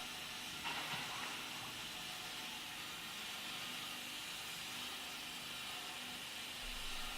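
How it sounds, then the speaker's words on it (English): A PE and EVA foam sheet splitting machine runs with a steady, loud mechanical hiss and whir, an even industrial drone with no pauses. "The operator loads the foam sheet onto the conveyor, and the machine begins the automatic splitting process."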